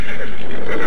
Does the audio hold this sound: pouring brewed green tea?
no